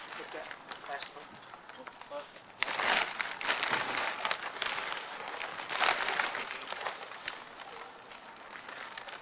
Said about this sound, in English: I'm going to pull this plastic up.